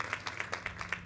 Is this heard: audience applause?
yes